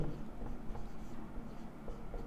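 Chalk or marker scratching on a board during a Hindi-language class 11 physics lecture on rotational motion, a steady run of soft scraping strokes close by with no talk over it.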